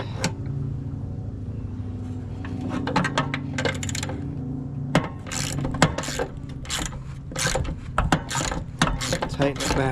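A ratchet tightening a headlight bucket bolt on a 2006 Jeep Wrangler, repeated runs of rapid clicking close by, in short bursts with brief pauses, over a faint steady background hum.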